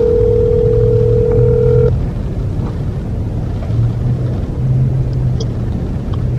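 Outgoing phone call ringing on a speaker, a steady tone that cuts off early, then repeated ringback pulses over a loud constant rumbling background, no speech.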